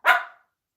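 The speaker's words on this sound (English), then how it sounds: "your barking is adorable today" One short, sharp dog bark rings out close and clear, then stops abruptly into silence.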